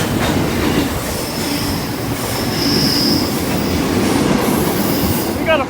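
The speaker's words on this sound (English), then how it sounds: "We got a freight train that just passed." A freight train rolls past at Mount Ku-ring-gai, a loud, continuous roar of wagons and rumbling wheels with a thin metallic squeal drifting above, close by and unbroken throughout.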